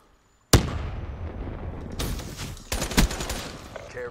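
Heavy gunfire in a Call of Duty Ground War match, opening with a sudden loud blast after brief silence, then sustained rattling shots with sharp bursts near the end, dense and close.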